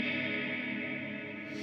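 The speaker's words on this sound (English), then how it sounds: "Ducking cosmic reverb." A sustained, shimmering Gibson Firebird X electric guitar tone washed in lush ducking cosmic reverb, steady and fairly quiet, with the wash holding evenly before a slight swell near the end.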